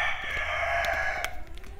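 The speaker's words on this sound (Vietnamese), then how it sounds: "con gà nó gáy được 4 tiếng rồi" A rooster crows in one long, loud, sustained call that trails off, heard close by over a steady background hum.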